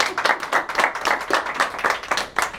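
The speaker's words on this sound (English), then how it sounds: "How about another round of applause for Sir Lancelot?" Audience at a Toastmasters meeting clapping in a round of applause, a dense, even patter of many hands at close range for a few seconds, with no voices over it.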